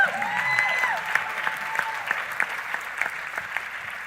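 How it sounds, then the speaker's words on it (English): Steady applause from a church congregation, dense clapping throughout with a few sharper claps standing out, fairly loud and sustained. "Clap loud, that's how you do it."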